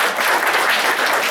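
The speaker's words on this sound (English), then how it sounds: "give a round of applause for all our guest speakers" An audience applauds guest speakers at a youth committee info session, a dense, steady clatter of clapping filling the whole short stretch at close range.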